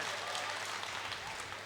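An audience at a mushaira poetry gathering in Muzaffarnagar applauds in a steady, even wash of clapping heard from a distance, faint and continuous throughout.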